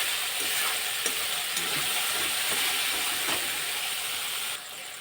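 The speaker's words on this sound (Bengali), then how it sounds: "মশলাটা ভালো করে কষিয়ে নেব" Spice masala sizzles in a pan for a mrigal fish curry, with a continuous bright hiss and a few soft clicks of stirring. It is fairly quiet and drops slightly just before the end.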